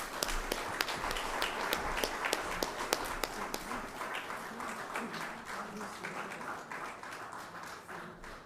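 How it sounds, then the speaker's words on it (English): Applause from the audience at an annual general assembly opening ceremony, with many sharp individual claps standing out over a steady wash of clapping that gradually softens toward the end. "A round of applause."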